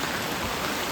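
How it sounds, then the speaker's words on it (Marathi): Heavy monsoon rain pours down near a waterfall in the hills, a dense, even roar of falling water with no voices. "मंडळी बघा पाऊस मोठं इल्लेलो असा"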